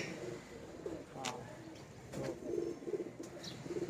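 A young homing pigeon coos softly in a loft, low throaty calls repeating several times alongside brief wing flutters and faint background noise, quiet and close.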